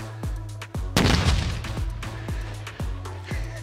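A 600-gram explosive charge goes off with a single heavy, loud blast near the one-second mark, followed by a long rumbling decay. Sharp repeated pops and a steady hum run through the clip around it, and no one speaks.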